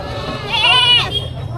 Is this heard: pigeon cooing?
no